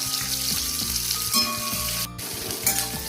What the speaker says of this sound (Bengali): তো পেঁয়াজ একটু ভাজা হয়ে গেছে